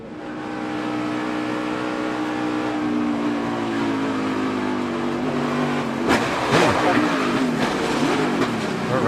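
A NASCAR race car at Charlotte throttles through a crash. A steady, loud engine roar is broken by a sudden crashing impact about two-thirds of the way in, followed by rattling noise.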